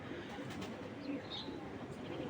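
A pair of young silver pigeons coos softly and faintly against steady low background noise, with no clear talk over it.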